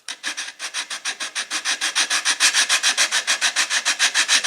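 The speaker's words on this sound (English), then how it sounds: "I'll put the plane iron, I'll draw it onto the sandpaper a few times, and then I'll move back and forth" A steel plane iron rubbed back and forth on sandpaper, a steady run of about twenty quick rasping strokes that grow louder, close up with no talk.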